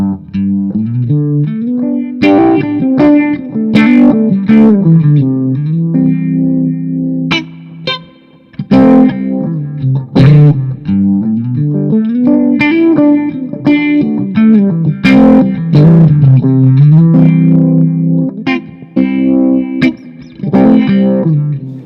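A Sterling by Music Man Valentine electric guitar through Univibe and T Drive overdrive plays a continuous, driven passage with warbling, swirling modulation and overdriven grit, loud and close, with chords and bends and no talking.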